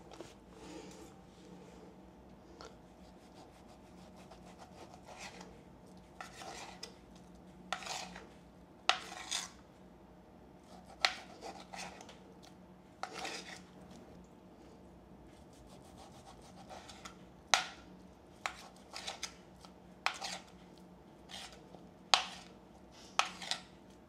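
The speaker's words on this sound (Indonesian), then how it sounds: "Jadi dagingnya kita potong-potong dulu." Meat is cut into pieces with a knife on a board, repeated rasping strokes and sharp taps that come in irregular bursts, close and moderately loud against a quiet room, with no talking.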